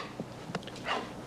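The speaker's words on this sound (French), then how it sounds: "Lâchez le chien." Dog in a television drama scene, a few faint brief whimpers and yips, quiet and indoors.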